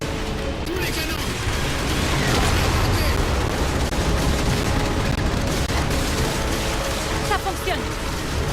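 Cannons fire in Halo 4 during a space battle, a dense continuous barrage of booming shots and mechanical clatter sustained throughout at high loudness.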